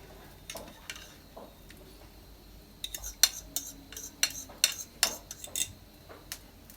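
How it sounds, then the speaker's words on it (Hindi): A utensil scrapes and clinks against a bowl as beaten eggs and cornflour are stirred into a mixture, faint at first and then a quick run of sharp, close taps and scrapes in an irregular rhythm. "अंडा और कॉर्नफ्लोर मिला दिया इसमें"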